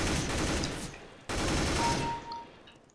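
M4A4 rifle fire in Counter-Strike: Global Offensive deathmatch: two loud, dense automatic bursts split by a short gap near the middle, with no talking.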